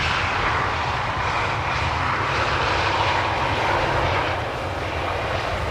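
A Transavia airliner at Amsterdam Schiphol Airport roars with a loud, steady broadband engine rumble, close and continuous for several seconds with no voices.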